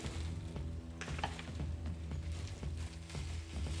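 Onions cooking in sesame seed oil for Chinese-style shrimp fried rice give off a steady, close sizzle, with a faint scrape of stirring and a low hum running underneath.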